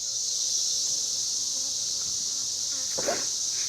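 Honey bees buzz steadily in an open hive during an apiary inspection, a dense, continuous close-up hum with a faint human murmur near the end.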